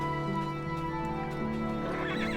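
In the fantasy online game Lord of the Rings Online, a horse whinnies loud and close against a sustained musical backdrop, with a rising neigh toward the end and faint hoof clip-clop.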